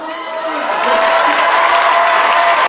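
A comedy-show audience applauds and cheers in a dense, steady burst that builds over the first second, holds strong with a few voices mixed in, then cuts off abruptly.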